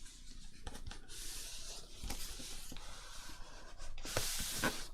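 Folded paper is creased by hand while making a junk journal writing set, with soft close rubbing and scraping strokes, a few light taps, and a brighter swipe near the end.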